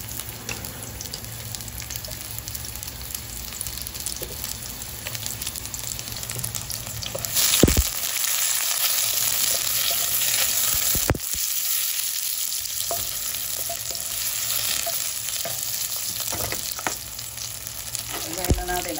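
Shallots sizzle steadily while frying in a pan, a continuous crackling hiss with occasional stirring clatter and a brief sharp knock partway through.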